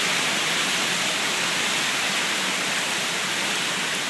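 Heavy rain and wind from Tropical Storm Isaac at West Palm Beach Shores, Florida: a steady, dense, loud hiss of downpour that continues unbroken throughout, with no voices.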